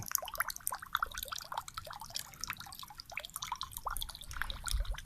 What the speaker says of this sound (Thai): นี่นะครับปั๊มน้ำติดนะครับ อันนี้ก็คือเป็นแบบปั๊มน้ำขนาดเล็กนะครับ น้ำที่ได้ก็จะประมาณนี้นะครับนี่